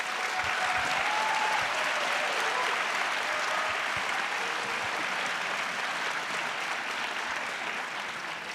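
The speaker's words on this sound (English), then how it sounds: "Please, a big applause." A conference audience applauds at a talk on the European Left, a dense, even wash of clapping from a large crowd that holds steady throughout with no voices on top.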